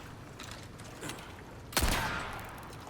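One loud, sharp gunshot in the Resident Evil video game, followed by a short ringing decay, with faint mechanical clicks and creaks just before it.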